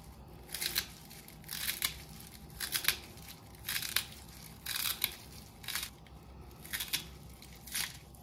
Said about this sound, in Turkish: Şöyle bir tutam maydanozum var. Üzerine hemen doğrayacağım.